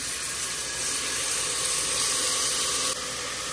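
Meat (osso buco) searing in a hot pressure cooker pan, a steady, loud, broadband sizzle and hiss that continues throughout, with a slight shift near the end.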